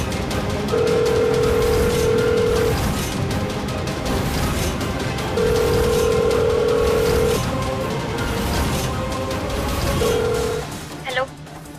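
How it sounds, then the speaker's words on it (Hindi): Telephone dial tone heard while a phone call is being placed: three steady beeping tone segments over a busy background of talk and room noise, ending with a brief chirp. "फोन करके देखो जरा, पता तो चले किसका नंबर है"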